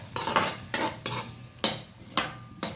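Coconut pieces with turmeric stirred in a pot over a wood-fired stove for chicken curry, giving about six distinct scraping, clinking strokes of a metal spoon against the pot, close and moderately loud, with no talking.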